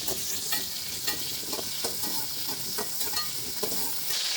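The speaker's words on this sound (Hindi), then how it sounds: "ये देख लीजिए आलू बस आपने थोड़े से भूनने हैं, 1-2-3 मिनट के लिए।" Potatoes frying in ghee in a pan for aloo dum biryani, a steady close sizzle with scattered crackles and light stirring scrapes throughout, no voices.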